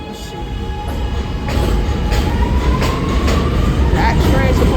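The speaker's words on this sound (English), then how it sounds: "There's the train coming right now." A train pulls into the 88 Street station with a loud, continuous rumble and rattle that swells partway through, with thin metallic squealing tones from the wheels.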